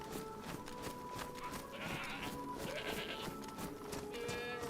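Goats bleat repeatedly in DayZ, several short nasal cries spread across a few seconds over a steady ambient background.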